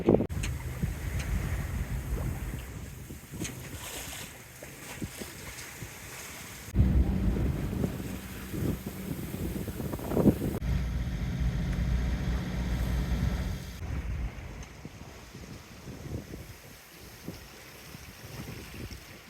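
Rough sea with strong wind and swell while sailing off northern Spain, a continuous loud roar of wind buffeting the microphone over rushing waves along the hull, with surging gusts and heavier crashes partway through and no voices.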